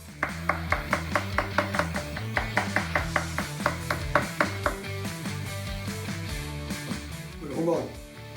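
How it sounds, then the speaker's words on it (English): Smoked meat for drum smoker nachos being chopped with a knife on a board, a fast, steady run of sharp chops that slows near the end, with talking and music underneath. "So let me chop this meat up"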